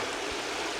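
Mill Creek on a North Carolina farm runs as a steady, broadband rush of flowing water, close and continuous with no voices over it.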